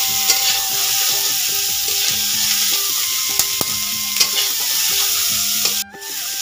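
Pointed gourd fries in a pan and is stirred, giving a steady close sizzle broken by repeated scrapes and clinks of the utensil, with a short break near the end.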